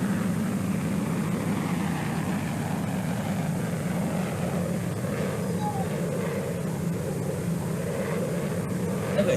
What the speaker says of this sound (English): the really cool thing when you're taking off in a carrier is how the plane accelerates